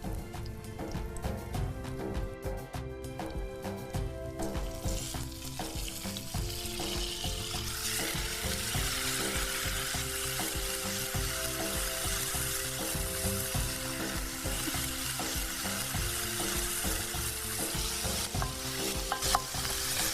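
Greens sizzle loudly in hot tempering oil with occasional stirring scrapes and clatters, the crackling growing brighter and more intense after the first few seconds.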